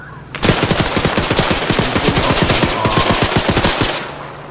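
Rapid bursts of automatic gunfire fired into the air in a video game, a loud, sustained rattle of closely spaced shots running for about four seconds before stopping abruptly.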